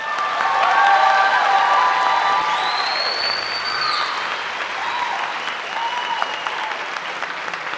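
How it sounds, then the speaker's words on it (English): An audience at a high school senior awards ceremony gives a full, sustained round of applause, loud and dense at first and then gradually thinning, with some cheering mixed in. "one final round of applause for these students."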